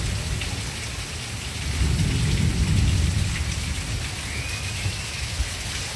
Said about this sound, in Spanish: Está lloviendo feo aquí.